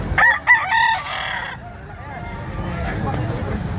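Native chicken rooster crowing loudly and close by at the start, followed by softer clucking and background chatter from people nearby.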